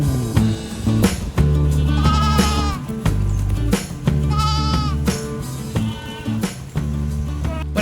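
Goats on a farm bleating repeatedly in hot weather, several loud wavering calls close by over a low background rumble.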